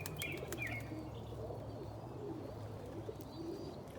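Pigeons, including yellow reverse wing breeders, coo softly in a loft with a brief flutter of wings and faint chirps, steady low murmuring with no talk.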